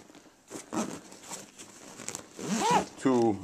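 A zipper is pulled shut on a Lowepro camera bag's main compartment in quick rasping strokes amid rustling, with a person speaking near the end.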